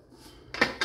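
A Presto 23-quart pressure canner lid is set on and closed, giving two short metallic clanks close by in an otherwise quiet moment.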